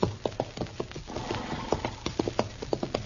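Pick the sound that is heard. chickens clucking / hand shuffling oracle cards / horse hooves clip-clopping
horse hooves clip-clopping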